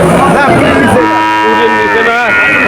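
A cow at a busy cattle market lets out loud, drawn-out moos, close and dominant, amid crowd noise, with two long calls rising and falling in pitch.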